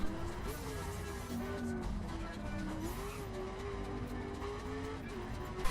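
Car engine in The Crew racing game during free-roam driving, a steady drone with shifting pitch and occasional tire noise, continuous throughout.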